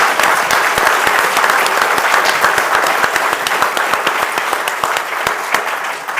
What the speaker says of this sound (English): if we can please give them a round of applause for their...